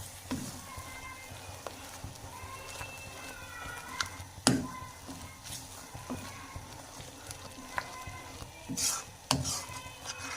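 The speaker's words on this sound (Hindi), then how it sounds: "चम्मच को आपने अब हिलाते रहना है।" A spoon stirs an egg halwa mixture in a pan, with soft scraping and light clinks against the metal. A few sharper knocks stand out, with no voices.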